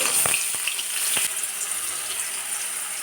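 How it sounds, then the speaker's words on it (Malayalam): Crushed shallots and garlic fry in hot coconut oil in a clay pot, giving a steady close hiss with a few soft crackles and pops and no voices. "ചീഞ്ചട്ടി വെച്ച് വെളിച്ചെണ്ണ ഒഴിച്ചു കൊടുത്തു. വെളിച്ചെണ്ണ ചൂടാകുമ്പോൾ ചതച്ച ഉള്ളി"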